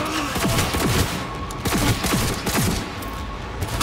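Rapid gunfire fills a Cyberpunk 2077 firefight, with loud repeated shots and booming bursts rolling one after another, dense and close, with no voices.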